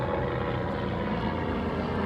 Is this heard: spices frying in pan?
no